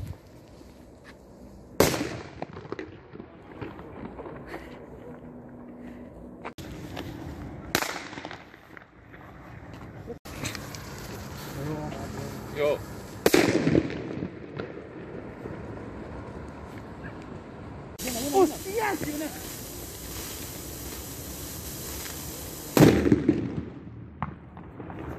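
Firecrackers and fireworks blast at a New Year celebration in Spain, a string of loud, sharp explosions and crackling bursts spread across the scene, some very close, with voices in the background.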